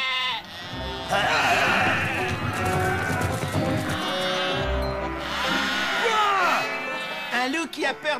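A cartoon flock of sheep bleats loudly and repeatedly, overlapping in a busy chorus, with a few trailing cries at the end.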